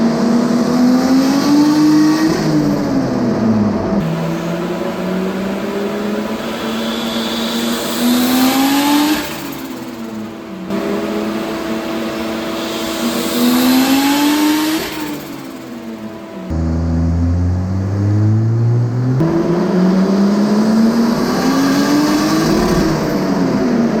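Turbocharged Mercedes C180 tuned past 400 hp revving on a dyno, loud close engine pulls that climb steadily in pitch, drop back, and repeat in four long runs.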